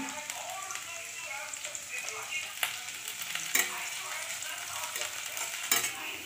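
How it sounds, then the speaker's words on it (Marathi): Sliced vegetables including capsicum, garlic, ginger and carrot stir-frying in oil in a pan for veg noodles, a steady hissing sizzle with a few sharp scraping knocks of the stirring utensil, close and continuous. "हे आता परतून झालं, शिमला मिरची परतून झालेली आहे।"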